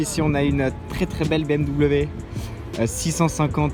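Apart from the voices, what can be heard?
No distinct noise like a dog, phone or traffic.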